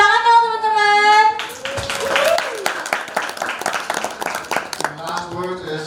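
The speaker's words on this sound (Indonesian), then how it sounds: "Tepuk tangan dong teman-teman." Wedding guests clap at a reception while a voice talks and music plays, the clapping a busy patter of many hands beneath the speech.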